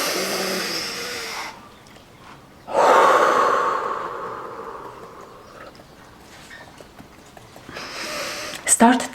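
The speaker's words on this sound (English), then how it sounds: "Take a deep breath in" A person draws a long, deep breath in during a tapping exercise. The inhale is loud and close, followed by quieter breathing and another breath near the end.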